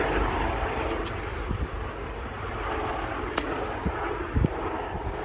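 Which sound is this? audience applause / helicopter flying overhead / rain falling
helicopter flying overhead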